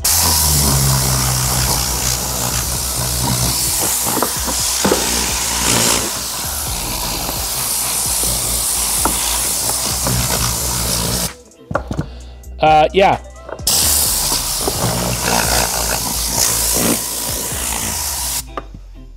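A Rag Company Ultra Air Blaster blasts compressed air through a car interior, a loud roaring hiss in long bursts broken by a couple of brief pauses, with a short spoken word in between.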